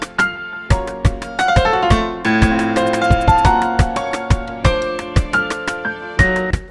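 Solo piano plays a lively run of struck chords and single notes, dry and close with no echo trailing the attacks, sounding steadily for several seconds.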